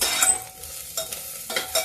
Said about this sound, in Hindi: अब ये प्याज देखिए थोड़ा सा तेज पत्ता भून जाता है